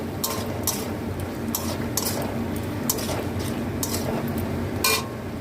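A spatula stirs coriander leaves through a dish in a pan, scraping and clinking against the metal in an irregular rhythm over a soft background sizzle.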